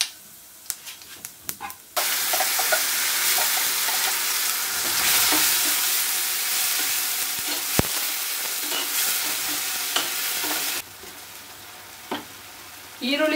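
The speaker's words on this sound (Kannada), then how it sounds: "ಈರುಳ್ಳಿ ಚೆನ್ನಾಗಿ ಫ್ರೈ ಆಗಬೇಕಿದು" Ground red onion paste dropped into hot oil with cumin in a pan, bursting into a loud sustained sizzle that crackles and hisses under stirring, then abruptly cuts off before a few light clinks.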